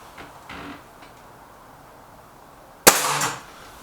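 A Stoeger RX20 S2 air rifle fired with a suppressor, a single sharp muffled crack near the end followed by a short clattering tail, preceded by faint quiet handling noises.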